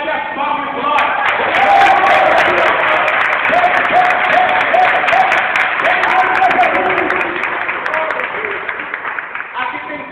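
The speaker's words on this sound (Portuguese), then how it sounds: "Cadê as palmas, glória?" Loud applause from a crowd at an inauguration, sustained clapping for several seconds with a voice speaking over it.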